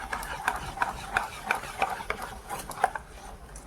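Eggless cake batter with Eno is whisked in a bowl, and a utensil clinks and taps against the sides in a quick, regular rhythm over a low background hum.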